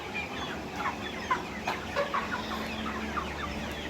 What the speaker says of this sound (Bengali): আমার এই শেডের টাইগার মুরগি